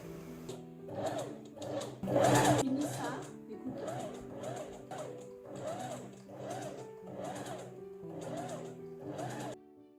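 A sewing machine stitching along the hem of a button-front dress with puff sleeves, giving a close rhythmic run of about a dozen even mechanical bursts, with a voice speaking over it.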